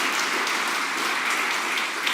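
Congregation applause in a Spanish-language Christian church service, a steady dense wash of clapping filling the room at moderate level, with no voices breaking through.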